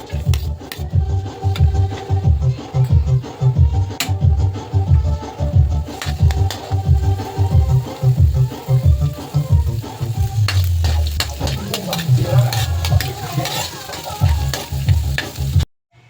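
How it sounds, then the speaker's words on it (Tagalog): Garlic sautéed in a little cooking oil in a pan, sizzling loudly and continuously up close while being stirred with rhythmic scraping strokes, ending abruptly near the end. "Konti lang mantika. Igisa natin ang bawang."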